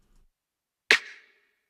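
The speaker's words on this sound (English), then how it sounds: "And a regular snare hit mixed with a clap," A tight snare hit layered with a clap sample rings out once, alone and close, with a crisp attack and a short bright decay, following a faint low blip.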